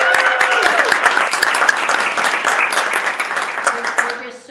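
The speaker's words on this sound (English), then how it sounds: "So a round of applause." An audience at a Women's History Month event celebrating women journalists gives a sustained round of applause, dense and loud, with some voices underneath, tapering off at the end.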